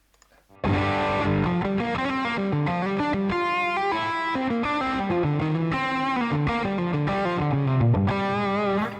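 A distorted electric guitar plays a run of chords and melodic lines through a hot-rodded Super Tweed amp model on a Fractal FM3 or Axe-Fx, warm, overdriven, loud and sustained, with no talking.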